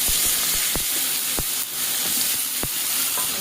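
Eggplant pieces fry in hot oil with turmeric for a Bengali fish curry: a constant close hiss of sizzling oil with a few sharp pops and utensil taps, loud and unbroken, no voices.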